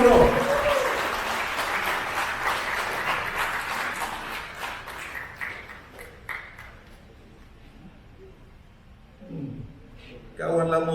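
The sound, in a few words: thunderous applause for a candidate at a rally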